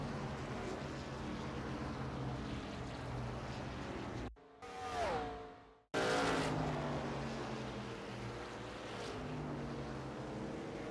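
Race cars at Lanier circle the track under caution, engines droning steadily and loud, cut briefly by a short sweeping pass-by tone before the rumbling pack resumes.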